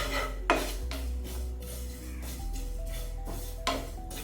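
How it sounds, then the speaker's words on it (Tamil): White sesame seeds being roasted in a pan, heard as a few clinking scrapes of a metal spoon against the pan over a quiet background. "எள்ளு நல்லா போட்டு வறுத்து எடுத்துக்கலாம்."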